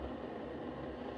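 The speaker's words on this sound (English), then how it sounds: "here's the sound of the water boiling" A Keurig B70 Platinum coffee maker heats water in a steady, dense hissing rush, close and continuous with no voices.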